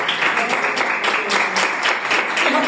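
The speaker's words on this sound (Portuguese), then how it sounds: "Palmas para Jesus, porque Deus é fiel." A church congregation claps during a sermon, a steady, loud patter of many hands with a faintly rhythmic pulse running through the whole stretch.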